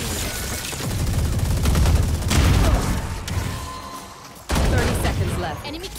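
Sustained machine gun fire from an Odin in the Valorant video game, loud dense rapid bursts running nearly continuously, dipping briefly before another heavy volley resumes.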